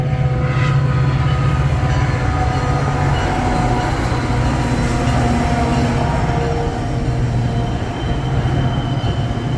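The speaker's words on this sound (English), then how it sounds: "we've already seen 2 trains pass by since we've been down here" A train rumbles past close by in Elmhurst, Illinois, a steady loud roar of wheels on rails with metallic squeals, continuous for the whole stretch.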